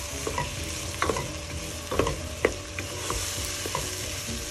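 Chopped onions and tomatoes sauteing in a pan for a Goan beef stew, with a constant close sizzle broken by sharp clacks of a spoon stirring and scraping at an uneven pace.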